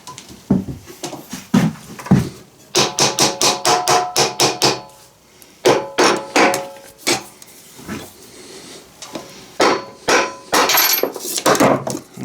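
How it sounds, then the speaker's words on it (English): A small hammer strikes metal parts while a 15 HP Powerfist engine is being torn down, landing in quick bursts of sharp, ringing taps separated by short pauses, close and fairly loud, with no talking. "Get a little hammer out here."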